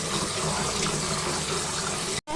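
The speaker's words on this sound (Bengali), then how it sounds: "শাকগুলো বারবার করে ধুয়ে নিচ্ছে, তো বালু না থাকে।" Leafy green vegetables are rinsed under a running kitchen tap, a steady close rush of water that cuts off abruptly near the end.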